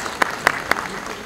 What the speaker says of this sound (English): A big round of applause for Mr. Witness.